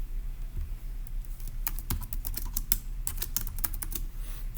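Rapid, uneven keystrokes on a computer keyboard, clustered in bursts over a steady low hum, close and fairly quiet.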